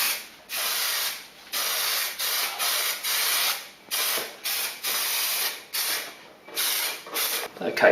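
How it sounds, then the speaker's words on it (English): Glue sprays onto a car headliner board for an Aston Martin DB7 roof lining in a series of hissing aerosol bursts, roughly a dozen short and longer blasts separated by brief pauses, close and moderately loud. "we're going to put some glue onto the headliner board"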